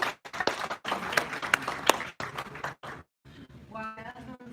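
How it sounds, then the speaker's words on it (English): Conference audience applauding as a presenter is welcomed on stage, a dense patter of clapping that fades out after about three seconds, followed by a person beginning to speak. "Everyone, round of applause for Sid."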